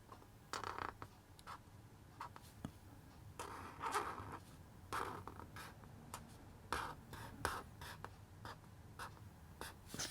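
A pen scratches across paper in quick bursts of short strokes and squiggles while drawing a shaving foam can, close and quiet with brief pauses between marks.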